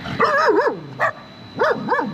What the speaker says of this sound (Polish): jak tylko psy przestaną szczekać i będziemy mogli się ruszyć